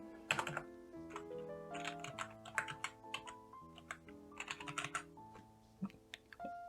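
Keys clatter as a command is typed on a 2021 ASUS TUF Gaming FX516PM laptop with an RTX 3060, a quiet, irregular run of close clicks and taps with short pauses between bursts.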